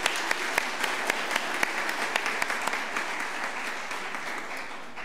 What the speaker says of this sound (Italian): È un applauso.